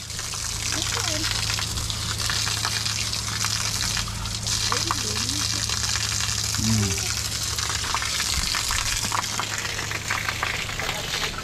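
Running water gushes and splashes steadily, probably from a tap or a pour used to wash dirt off hands. It stays loud and continuous throughout, with faint voices now and then beneath it.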